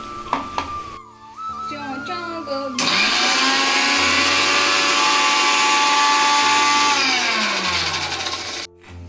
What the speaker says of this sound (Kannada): ಈ ರೀತಿ ಮಿಕ್ಸರ್ ಒಳಗೆ ಹಾಕಿ ಮಿಕ್ಸಿ ಮಾಡಿಕೊಂಡು ನಡಿತೈತಿ